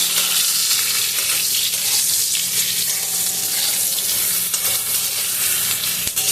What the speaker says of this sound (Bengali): নুন দিয়ে বেগুনগুলো ভেজে নেব